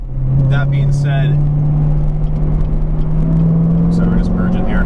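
A 2017 Corvette Grand Sport drives steadily while merging onto a road, a loud, close engine drone that rises gently in pitch, with someone talking over it.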